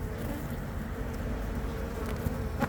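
Korean native honeybees buzz at their hive, a dense continuous hum from many bees heard up close, steady and fairly loud with no talking.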